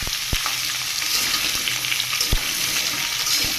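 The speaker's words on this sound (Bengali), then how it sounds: "এখন শুধু তেলে ভাজবো" Chopped carrot, turnip, beans and potato fry in hot oil with a constant hissing sizzle, punctuated by a few sharp knocks of a utensil against the pan.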